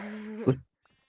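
Single short sheep bleat from a survival video game set on a desert island, a wavering nasal call about half a second long that cuts off abruptly into silence.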